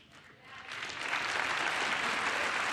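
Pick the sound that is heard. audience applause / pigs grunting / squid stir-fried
audience applause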